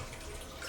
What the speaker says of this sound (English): It actually flushed.